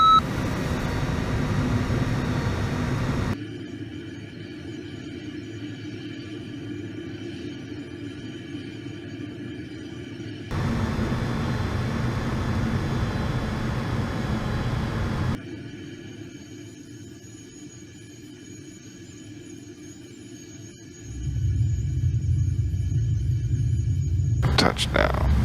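Airliner landing in a home-cockpit flight simulator on runway 1 left, throttles at idle, with a steady low engine rumble that drops and returns in blocks, then a louder low roar rising near the end as reversers deploy after touchdown.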